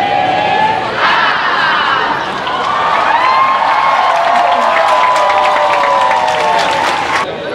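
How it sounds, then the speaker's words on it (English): A big, dense crowd inside a station during a Malaysia Day celebration, chanting and cheering loudly and continuously, with whoops and shouts rising over the steady roar. "there are so many people, a big crowd. They're chanting, as you can hear"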